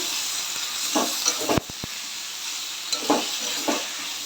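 Fish with brinjal and potato sizzle and fry in a pan, a constant hiss of oil under several scraping stirs and a few sharp knocks of a spatula against the pan.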